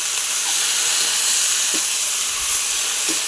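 Chopped banana flower poured into a hot pan and frying, a loud, steady close sizzle and hiss with a few faint clinks of stirring.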